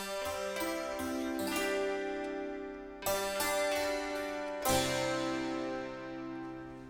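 Struck open strings of a Middle Eastern santur virtual instrument ring with long sustain, a few separate strikes and rolled clusters blooming and decaying alone, with no voices.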